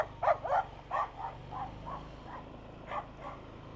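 A puppy barks in a run of short, high yips, several quick ones close together, then a few more spaced out, fairly close and moderately loud, heard outdoors in a small town with no talking.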